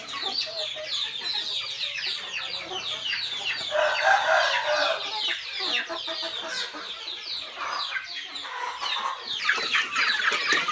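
Chickens cluck and a rooster crows on a small Thai farm, a busy, steady flock chorus with overlapping calls running throughout, fairly close and moderately loud.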